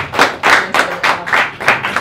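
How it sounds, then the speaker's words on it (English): Audience clapping for a speaker at a student discussion event, heard as a close, steady run of sharp hand claps at a quick, even rhythm of about four per second, with no voices. "Give him a round of applause"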